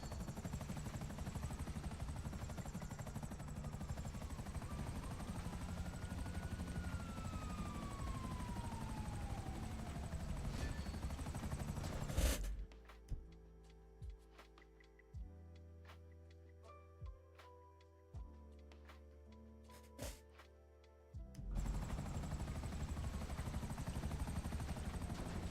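A helicopter's loud, steady rotor and engine drone fills the first half of a GTA V game scene. It then gives way to a quieter stretch of sharp, separate gunfire cracks before the rotor noise returns.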